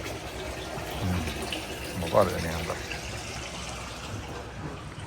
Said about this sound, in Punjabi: ਚੱਲ ਪਿਆ ਪਾਣੀ ਹੁਣ